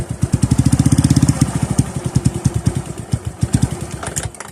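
A Suzuki Smash 115 motorcycle engine idles with a rapid chugging pulse, revs unevenly, then sputters and stalls when the throttle is opened fully, close and loud.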